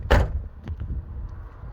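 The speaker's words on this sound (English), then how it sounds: "Everything door shut sounds?" A Rover car door slams shut in one solid, close thud, followed by a couple of softer latch clicks and a quiet rattle.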